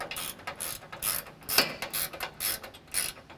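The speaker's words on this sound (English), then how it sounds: "then when everything is snug, then we'll tighten it all down with an 18 millimeter wrench or socket" A ratchet socket wrench tightens 18 millimeter bolts on a Toyota 4Runner front bumper, producing rhythmic clicking bursts in a steady back-and-forth pattern, close and moderately quiet.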